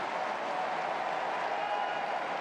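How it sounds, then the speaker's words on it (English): A tennis crowd at a 2025 US Open first-round night match applauds and stirs in a brief, steady, moderately distant wash of clapping and crowd noise. "You can hear this crowd."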